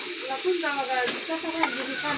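Pangas fish sizzles and fries steadily in a hot pan, a loud continuous crackle with a voice talking over it.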